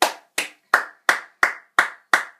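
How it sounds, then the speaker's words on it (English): Seven single, evenly spaced hand claps ring out one after another, sharp and close, each decaying quickly into silence, a lone person applauding cricketer David Warner after his test innings. "he deserves a big round of applause"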